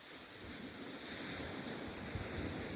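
Calm sea washing steadily onto the shingle of Chesil Beach, a continuous soft surf hiss with a light breeze and no voices.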